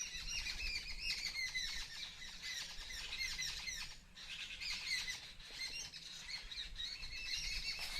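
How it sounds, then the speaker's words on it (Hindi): Jungle birds in Nepal squawk and chirp in a dense, noisy chorus, many overlapping calls keeping up steadily from start to finish, with a brief lull partway through and no talking. "तब से ये शोर शराबा कर रही थी बर्ड्स।"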